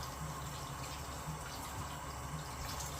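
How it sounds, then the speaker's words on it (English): Water pours steadily over squash pieces in a cooking pot for soup, a continuous close splashing and filling sound with no talk. "Top them with the water."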